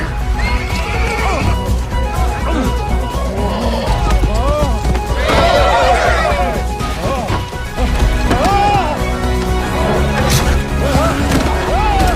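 Horses neigh and whinny loudly over galloping hoofbeats and crashing impacts in the animated film Spirit: Stallion of the Cimarron, with a dense music-and-effects mix and voices mixed in.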